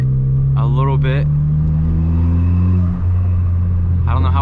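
A widebody big turbo Ford Fiesta ST engine drones steadily and loudly at close range, a low constant rumble with a faint rising turbo note, while someone talks briefly over it.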